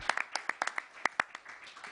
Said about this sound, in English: Let's give him a big round of applause, Jano Lieber.